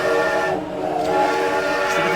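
A small steam-style train in RollerCoaster Tycoon sounds a sustained, tonal whistle over a faint rolling rumble, steady for about two seconds with a brief dip near the middle.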